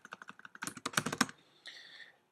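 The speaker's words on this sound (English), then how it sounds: "type in something like Transformers" A computer keyboard is typed on at close range, a quick run of crisp key clicks that speeds into a dense burst, then stops after a short final rattle, with no voices.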